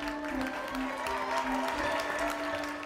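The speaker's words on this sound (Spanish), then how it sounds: "un fuerte aplauso para nuestra quinceañera y su mamá" An audience at a quinceañera celebration applauds, with steady clapping and some cheering mixed with sustained background music throughout.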